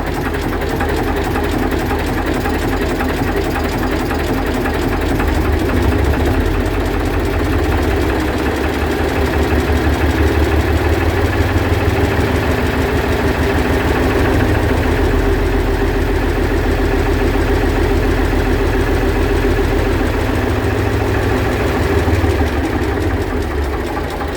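A Gardner 3LW diesel engine with coolant problems idles with a steady, knocking rumble, holding a constant loud chug throughout with slight rises as it is revved.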